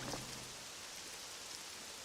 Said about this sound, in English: I guess it's raining here right now, which is neat.